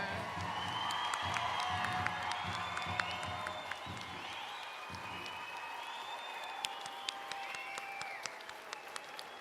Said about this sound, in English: Can we get one more round of applause for our ladies Graduates here